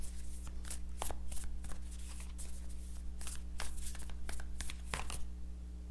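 Tarot cards are shuffled by hand in a quiet room, a steady run of soft riffling bursts and card slaps repeating about every half second, close and fairly faint over a low electrical hum, with no talking.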